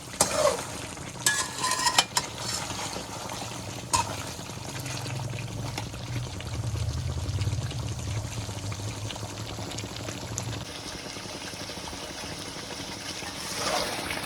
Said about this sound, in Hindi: अब इसे मैं 2 से 3 मिनट के लिए मसाले के साथ भूनूंगी।